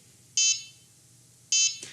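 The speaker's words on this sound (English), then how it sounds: "Okay, so we have a great buzzer noise." A buzzer on a coding kit board gives two short, loud, high electronic beeps about a second apart, alone in an otherwise quiet room.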